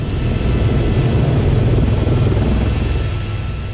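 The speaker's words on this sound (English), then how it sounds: "We're cleared for takeoff, and we're just off the ground here in a second." An Airbus EC130T2 helicopter lifting off for a westward departure, its rotor and turbine roaring loud and steady from inside the cabin with no talk.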